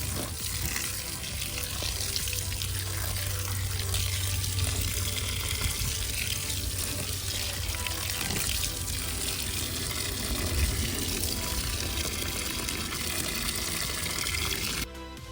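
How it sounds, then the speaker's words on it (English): Water pouring steadily onto freshly transplanted seedlings in soil, a continuous close splashing and trickling stream that runs unbroken for about fifteen seconds before cutting off, with no talking. "Let's also water it in."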